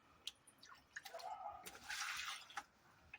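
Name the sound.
water being poured into fish transport bags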